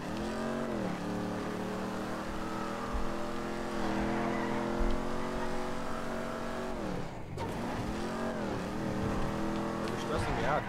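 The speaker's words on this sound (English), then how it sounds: "You're stressing me out driving so fast." A car engine revs and shifts through rising and falling gear sweeps while driven fast in a video game, loud and continuous, with people talking over it.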